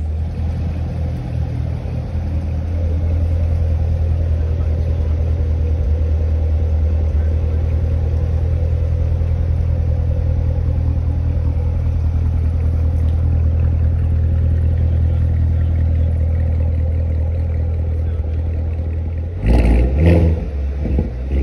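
A Jeep engine rumbles steadily and loudly for a long stretch while driving, ending with a brief clatter.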